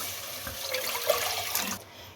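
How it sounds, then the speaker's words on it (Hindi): A glass of water is poured into a cooking pot while making a mutton liver dish, a steady splashing trickle for about two seconds with no talk. "एक देचकी लें, उसमें 1 गिलास पानी डाल दें।"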